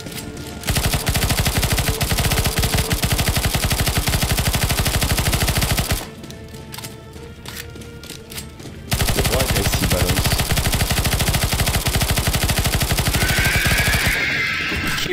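Sustained automatic gunfire in the video game CS:GO Zombie Escape, on the Lord of the Rings Minas Tirith map near Osgiliath: a dense, loud, continuous rattle of rapid shots that drops away briefly midway, then resumes.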